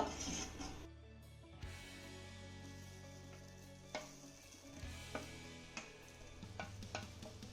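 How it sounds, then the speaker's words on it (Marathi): Grated coconut being stirred in a pan after roasting poppy seeds, giving a steady soft dry sizzle under repeated scraping strokes of a spoon against the pan, with a few sharper clinks, close and alone. "आता हे किसलेलं खोबरं आपल्याला सुक्क होईपर्यंत चांगलं परतून घ्यायचंय आहे"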